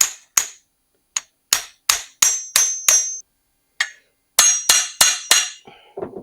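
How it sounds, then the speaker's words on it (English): Sharp metallic hammer strikes ring out one after another as a bicycle fork crown race is installed, about a dozen blows in uneven bursts with brief pauses, close and loud, each leaving a short ringing tail. "Start hammering."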